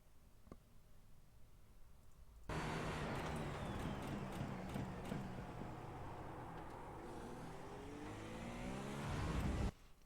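A prototype race car in the iRacing sim roars loudly at full throttle for several seconds, its engine note sweeping up through the gears before it cuts off abruptly.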